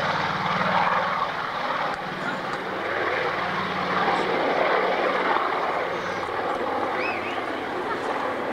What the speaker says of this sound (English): It's the Catalina. Love that aircraft.